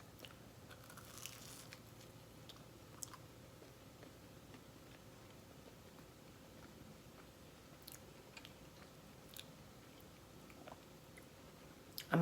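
Someone bites into and chews extra crispy, slightly burnt homemade breakfast food, with soft, scattered crunches close up over a quiet room background.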